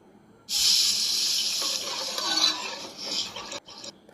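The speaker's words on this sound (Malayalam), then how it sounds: "മുളകും മല്ലിയും മൂത്തതിന് ശേഷം നമുക്ക് ഇനി അതിലേക്ക് ആവശ്യത്തിനുള്ള വെള്ളം ഒഴിച്ചു കൊടുക്കണം" Water poured steadily into a pan of fried chilli and coriander for a fish curry, a close continuous hissing splash that starts abruptly and tapers off near the end, no talk.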